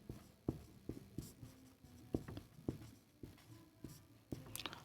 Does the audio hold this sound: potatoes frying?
no